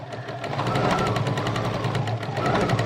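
A Bernina 880 sewing machine runs steadily and close up, its rapid rhythmic stitching chatter continuous for the whole few seconds with no talking.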